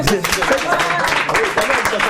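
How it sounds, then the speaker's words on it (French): A studio audience at a French-language TV magazine show with a comedian and a musician breaks into brisk applause, a dense patter of clapping with voices talking over it. "Ça s'applaudit"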